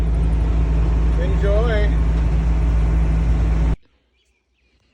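A diesel Power Stroke van engine drones loud and steady with a low hum while driving, under a spoken voice, then cuts off abruptly into near silence.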